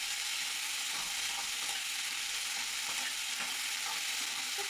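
Healthy noodles fry in a pan with very little oil, a steady loud sizzle running throughout while a utensil stirs and scrapes them in uneven strokes.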